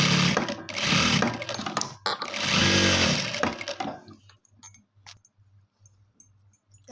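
A sewing machine stitching a lining seam runs in two loud sustained bursts of rapid motor whir, then falls to quieter intermittent clicks and a soft repeating mechanical tick nearby.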